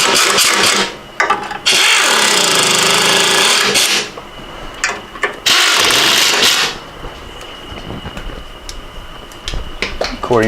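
An impact wrench works on a Porsche 912 engine during a rebuild: two loud, harsh bursts of a couple of seconds each, separated by a short pause, followed by quieter clicks and handling noises.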